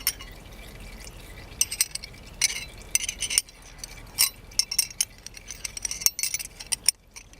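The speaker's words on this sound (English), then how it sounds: "You take this 9/16 wrench, put it over the drain plug." Metal 9/16 wrenches clink and tap against an oil pan drain plug in a series of sharp, bright metallic ticks scattered irregularly over several seconds, close to the mic without talking.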